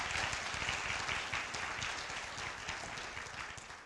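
Dense audience applause at a Summer Institute on Aging gathering, a full, continuous roar of many hands clapping that stays strong and slowly fades toward the end.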